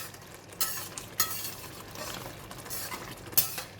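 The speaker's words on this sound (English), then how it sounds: "Once you pour in the flour mix, right, just gently stir it." A spoon gently stirs mapo tofu in a pan after a flour slurry is poured in, giving a soft sizzle with a few light scrapes and clinks against the pan, close and steady, no voices.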